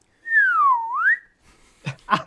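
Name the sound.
slide whistle imitation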